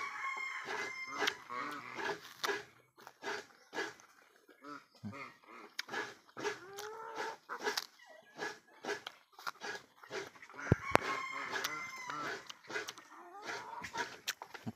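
Turkeys on a farm at feeding time give repeated bursts of loud, irregular fowl calls and clucks, with sharp cries scattered throughout.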